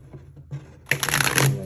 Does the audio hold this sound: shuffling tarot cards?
yes